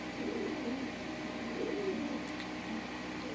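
Faint, low cooing comes from pigeons at a home loft of desi and Pakistani birds, a soft repeated burbling against a quiet room hum.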